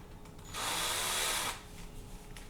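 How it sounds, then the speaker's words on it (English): A power drill spinning a mixing paddle in thick material whirs in a single burst of about one second, starting and stopping abruptly against a quiet background. "what I'm using is a spoon on a drill"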